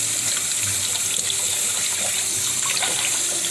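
Water poured into a gumbo pot while the roux thickens on the stove: a steady, unbroken rushing splash at even loudness throughout, with no one talking.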